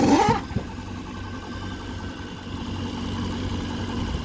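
A twin-turbo car engine idles steadily at a low, even rumble after a brief louder burst at the start, after running about 20 minutes, with a power steering leak.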